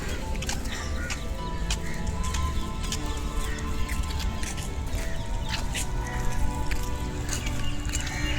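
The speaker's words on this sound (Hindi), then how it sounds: "तो बहुत सारी यहाँ चिड़ियों की आवाज़ है" Many birds chirp and twitter in a dense outdoor chorus in a tree at Humayun's Tomb, Delhi, steady throughout over a constant background rumble and hiss.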